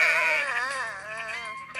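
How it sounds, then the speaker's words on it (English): A sheep bleats in a long, wavering, quavering call that starts loud and slowly fades, then ends with a brief final bleat, used as a sound effect for sheep herding. "sheep herding"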